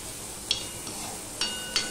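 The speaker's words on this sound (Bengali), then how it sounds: "আদা দিয়ে একটু নেড়ে চেড়ে নিলাম।" Ginger stirred into onions fried until red-brown in a pan, with a soft sizzle underneath and three or four sharp scraping taps of the spoon against the pan.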